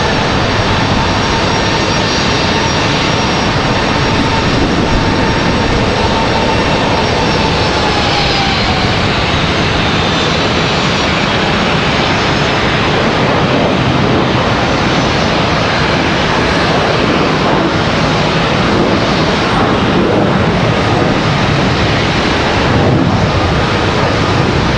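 Southwest airliner jet engines roar at Charlotte Douglas airport, a loud, steady broadband rush with a slowly shifting whine that holds nearly constant for the whole stretch, with no voices.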